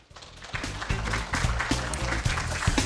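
An audience applauds after a presentation at a cybersecurity results event, dense sustained clapping building quickly and holding steady across the room.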